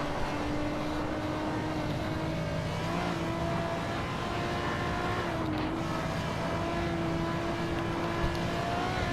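BMW race car engine in a racing video game on the Nürburgring, a steady loud drone with shifting harmonic tones as the revs rise and fall, continuous throughout with no talk.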